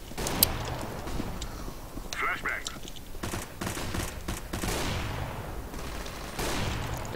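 Gunfire in Counter-Strike: Global Offensive, rapid bursts of shots cracking through a busy competitive round with footsteps and other game noise, several clustered volleys spread across the moment.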